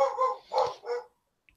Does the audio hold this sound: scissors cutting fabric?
no